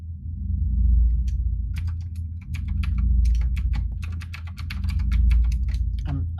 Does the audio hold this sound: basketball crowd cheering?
no